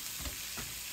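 Oil frying in a pan with grape seed oil, a steady soft sizzle under light stirring scrapes, ending in a sharper burst as something hits the hot oil; no talk.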